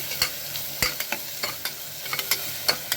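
Masala frying in a pan for palak rice, a steady close sizzle broken by sharp scraping taps of a spoon stirring at irregular intervals.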